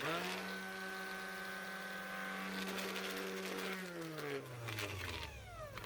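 A repaired Ryobi battery-powered orbital sander runs with a steady, loud motor whine that holds level, then drops in pitch as it winds down near the end, with no talking.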